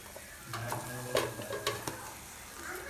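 Chopped green onions are stirred through hot oil in a pan, a soft crackling sizzle punctuated by several sharp scraping strokes of the spoon, fairly quiet and close.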